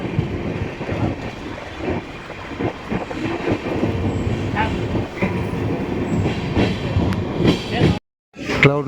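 A passenger train at Kengeri railway station rumbles and clatters with rail noise and intermittent knocks, while indistinct voices murmur underneath; the sound cuts out briefly near the end.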